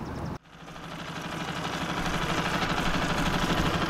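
A small outboard motor runs steadily after a pull start, a brief cutout near the start giving way to a continuous, even engine drone that holds loud and close throughout.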